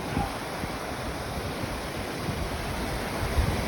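A newly formed waterfall after a storm pours steadily, a dense broadband rush of water that stays even and continuous throughout, with no voices.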